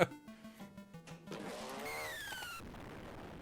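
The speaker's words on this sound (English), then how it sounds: "Oh, they had a little motorcycle sound." A short synthesized motorcycle engine effect from a pinball video game, with rising revving tones over a few seconds after a sequence of electronic game beeps, fairly close and clear.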